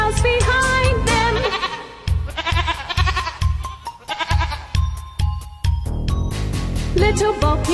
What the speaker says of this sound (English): Little Bo-Peep fell fast asleep and dreamt she heard them bleating.